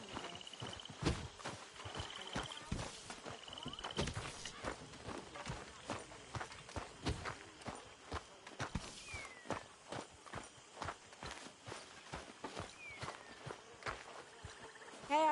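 Horse hooves clip-clop steadily in Red Dead Redemption 2, a continuous walking rhythm of sharp hoof strikes throughout, with occasional voices and game sounds layered in.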